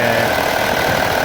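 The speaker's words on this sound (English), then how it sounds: "Car's running without engine management light" Skoda Superb mk1 engine running after a repair to broken manifold flap wiring, a steady close mechanical hum with a slight knocking, vibrating texture, continuous and alone.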